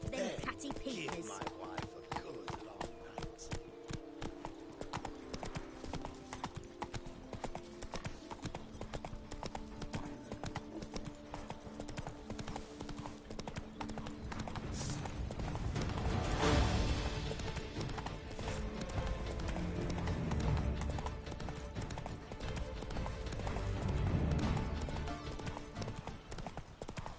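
The horse Roach from The Witcher 3 trots with a steady, rhythmic clip-clop of hooves throughout, while several voices talk over it.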